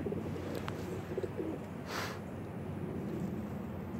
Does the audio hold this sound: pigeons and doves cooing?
yes